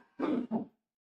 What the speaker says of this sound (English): I don't know why I'm coughing so much